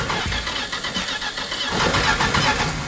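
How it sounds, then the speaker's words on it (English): A Plymouth Road Runner C-body with exhaust off and driveshaft removed cranks in rhythmic starter pulses, then catches and fires into a loud, raw running engine close by. "All right, let's see if it cranks."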